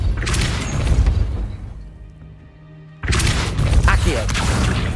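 A Depulso force-push spell cast in Hogwarts Legacy, heard as a booming, crashing blast with mechanical clatter that drops away into a quiet pause before another heavy burst; a voice speaks near the start.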